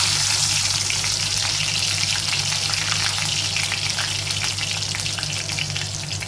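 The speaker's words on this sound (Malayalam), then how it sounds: "അതിലേക്ക് നമുക്ക് നമ്മൾ അരിഞ്ഞു വെച്ചിരിക്കുന്ന പച്ചമുളക് ചേർത്ത് കൊടുക്കാം." Green chilies sizzle in hot frying oil for a pineapple pickle, a steady, dense crackle with no pauses, loud and close throughout.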